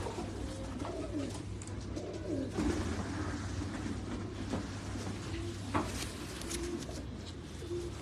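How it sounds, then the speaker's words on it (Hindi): Pigeons kept on a Karachi rooftop coo softly in repeated low, throaty calls, close but faint over steady background hum, with a few light knocks and no talk. "बहुत अच्छे कबूतर है।"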